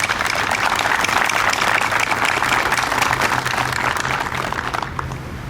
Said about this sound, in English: give Joe, Tommy, and his wife Tracy a round of applause, I would appreciate it.